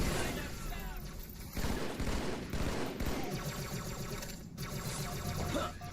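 Rapid gunfire from the video game Halo 2 rattles in dense, continuous bursts with brief gaps, loud and close, layered with other game sounds and some speech.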